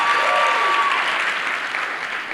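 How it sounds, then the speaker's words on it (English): Audience applause at a youth summit interactive session, a dense steady wash of clapping filling the whole stretch, with a brief voice trace early on beneath it. "Clap for yourself."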